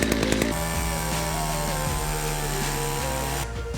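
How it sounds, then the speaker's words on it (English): A 1986 chainsaw with a dull chain cutting logs, a loud close high-revving buzz that bogs slightly as it bites, steady under load for a few seconds before easing off, with no talk. "I've got Dad's chainsaw, which is almost the same age as me. I'm pretty sure he got it in 1986 and this beast still works."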